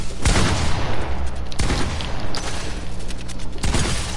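Gunfire in a video game: sharp, loud shots burst out at irregular intervals, a few isolated cracks with rattling bursts between them, over steady game background noise.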